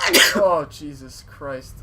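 A single sharp sneeze bursts out close up, followed right after by someone speaking briefly.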